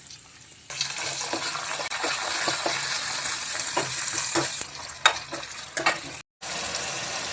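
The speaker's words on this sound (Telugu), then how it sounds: "పచ్చివాసన పోయినంత వరకు వేయించుకోవాలి" Curry leaves fry in a pan for curry leaf rice, giving a steady, close sizzle with scraping stir strokes throughout and a brief break near the end; no voices.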